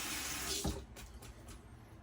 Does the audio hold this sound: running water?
yes